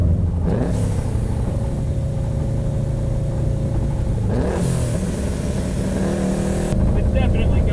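A JDM WRX-engined Subaru Impreza 2.5RS turbo pulls through the gears on a winter drive, its engine note loud and continuous with rising revs, shift breaks and turbo noise, while a voice talks over it.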